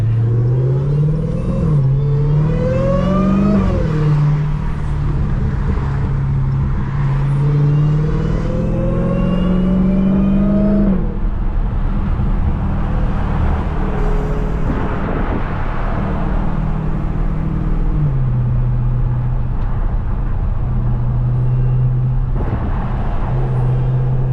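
A 640 hp Dodge Charger SRT Hellcat engine revs hard and accelerates on a night drive, its loud, close rumble climbing in pitch through repeated upshifts before settling into a steady drone, then rising again near the end.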